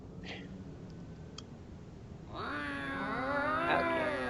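A cat meows in a video game base, a drawn-out caterwauling meow that rises clearly in the second half after a few faint clicks, close and alone without talk.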